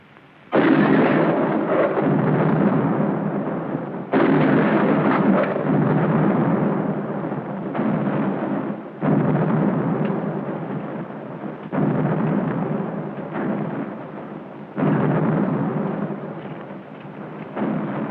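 Artillery fire from 9-pounder cannons in a 1951 western, a run of heavy booming blasts roughly every few seconds, each with a long rumbling tail, loud and without talk.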